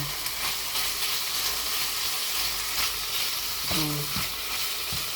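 Marinated chicken frying in a large wok, with a close, steady sizzle and crackle and occasional clanks of a utensil against the pan, plus a brief voice near the end.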